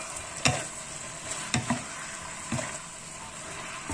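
Crispy pork is tossed with Chinese kale in a hot pan, giving a continuous close sizzle broken by three sharp stirring scrapes and clatters, with no talking.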